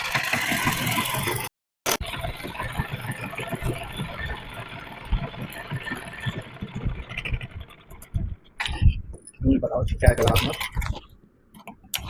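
A sewing machine stitches a child's suit in a continuous, whirring motor drone with rapid needle pulses. It runs steadily for several seconds, briefly stops, then gives way to scattered handling noises while someone talks over it.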